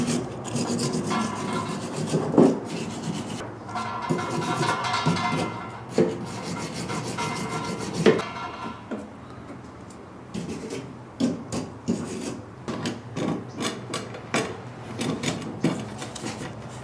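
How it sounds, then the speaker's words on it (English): Threads on a water pipe being cleaned up while a water heater is installed. Steady, close rasping and scrubbing strokes repeat in an uneven rhythm with no voices. "So we're going to clean up the threads here."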